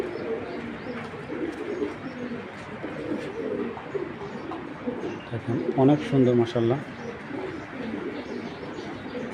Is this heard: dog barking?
no